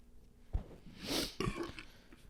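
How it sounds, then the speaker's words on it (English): A man burps after drinking soda, one short throaty eructation after a thump, alone and fairly close, with some breathy noise around it. "It made me burp."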